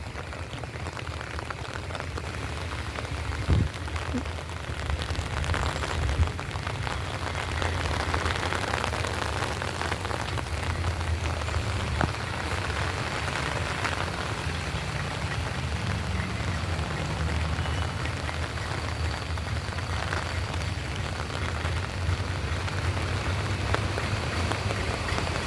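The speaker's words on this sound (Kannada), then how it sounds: "ಮಳೆ ಬರ್ತಾ ಇದೆ, ತುಂಬ ಮಳೆ ಬರ್ತಾ ಇದೆ" Heavy rain pours steadily at a temple in Dakshina Kannada, a dense, even hiss of drops drumming on surfaces that lasts throughout with no voices.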